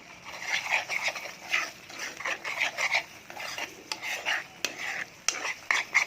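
Sambal ulek cooking in a pan, with a spoon scraping and stirring in busy, uneven strokes over a light sizzle, close and fairly loud.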